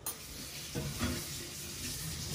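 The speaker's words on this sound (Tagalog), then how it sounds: "Kumukulo na yung aking gising-gising." A pot of spicy gising-gising vegetable dish bubbles close by, giving a steady hissing simmer with soft pops and a brief stir partway through.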